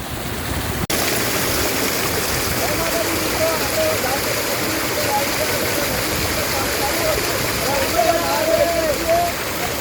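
Steady rushing warm water of the Banas river at Balaram flows continuously, a dense broadband wash with a faint click near the start and soft distant voices underneath.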